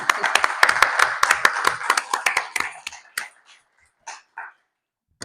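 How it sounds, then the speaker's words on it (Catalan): An audience at a photography book presentation in Badalona bursts into dense applause that thins out into a few scattered claps before stopping. "Un aplaudiment per ella, un aplaudiment."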